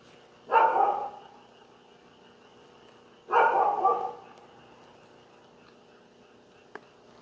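A dog gives two separate barks a few seconds apart, fairly close, with quiet pauses between and a small click afterward.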